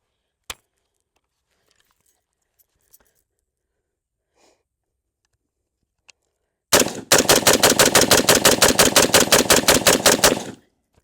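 PSA Jackal AR-15 rifle in 5.56 firing outdoors, one early shot and a few faint distant reports, then a loud close string of roughly thirty rapid evenly spaced shots lasting about four seconds.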